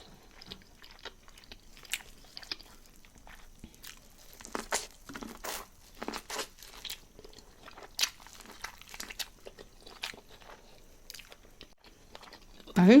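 Someone eats seafood in butter sauce close to the mic. Soft, irregular crunching and chewing clicks are scattered through a quiet room.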